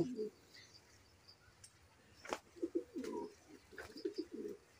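A pigeon coos in several low, soft bursts, a pair early on and a cluster toward the end, with quiet bird chirps and handling sounds between them.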